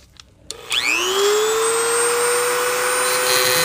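A small rotary cutting tool spins up with a rising whine, then holds a steady high-pitched drone while cutting out the front of a metal Hot Wheels car base, close and loud.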